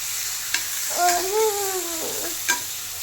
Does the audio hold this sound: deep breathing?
no